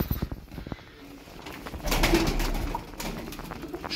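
Young tumbler pigeons coo softly close by, low throaty calls repeating over a light background with a few taps and rustles.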